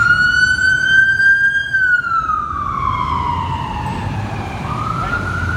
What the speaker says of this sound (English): I want to wait for the ambulance to go around.